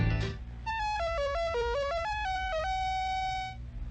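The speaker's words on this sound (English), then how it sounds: "you can hear the complete version of the T.A.T logo theme" T.A.T. logo theme music from a 1979 CBS broadcast, a short electronic melody of bright tones stepping down and back up, played alone at moderate volume after a brief opening burst.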